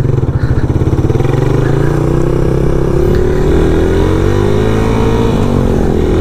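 A carbureted 2021 Suzuki Raider 150 motorcycle rides off. Its loud, close engine idles with a steady putter, then revs and climbs in pitch as it pulls away.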